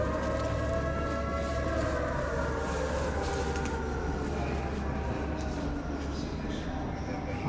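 Steady wailing sirens in the distance over constant low rumbling background noise in Portimão, Portugal, continuous throughout with no pauses.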